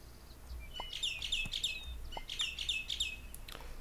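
Bright chirping birds in Super Auto Pets, repeated short tweets and trills in quick clusters, moderately loud over a soft game background, no talking.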